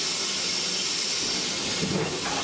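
Steady, loud hiss of steam escaping from the open drain cocks of a narrow gauge steam locomotive on a heritage railway, continuous and close with no talk.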